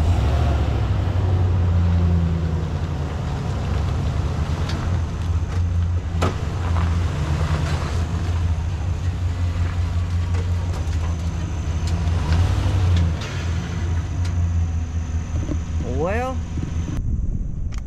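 A pickup truck engine runs steadily at close range with a low rumbling drone, idling and labouring as it is shifted into four-wheel drive on a farm at corn harvest, with a brief rising whine near the end.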